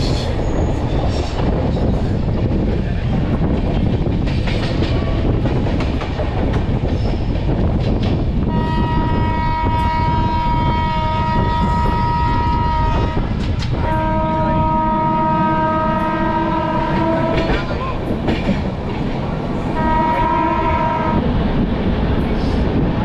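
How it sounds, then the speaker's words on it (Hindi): Durg-Puri Express train running out of Raipur railway station in the evening, with a steady rumble of the moving train throughout and several long, loud horn blasts sounding in the latter half. "तो गाइस अपना ट्रेन निकल चुका है रायपुर रेलवे स्टेशन से"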